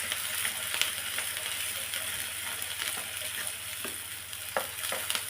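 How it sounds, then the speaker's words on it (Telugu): Finely chopped onions frying in a pan for mutton fry, a steady close sizzle with intermittent scraping and clinking of a spoon stirring through them, no voices. "సన్నగా తరిగి పెట్టుకున్న ఉల్లిగడ్డలు, ఇవి బాగా కలుపుకోవాలి"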